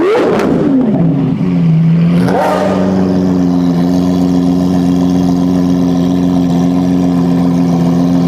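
A Lamborghini Aventador engine revs hard and loud, climbing and falling in pitch, then blips again before settling into a strong, steady, droning idle close by.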